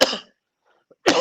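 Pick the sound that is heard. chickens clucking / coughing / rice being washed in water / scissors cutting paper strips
coughing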